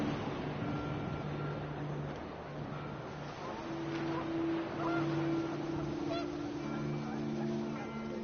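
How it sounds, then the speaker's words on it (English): Panicked geese honk repeatedly in a video game scene, their calls rising and falling against a constant rush of wind that fills the whole stretch. "The wind picked up, and panicked geese appeared and quickly went."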